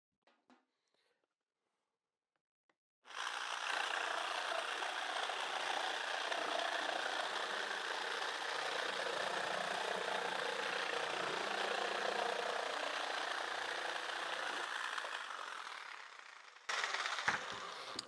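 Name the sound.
jigsaw cutting with a template jig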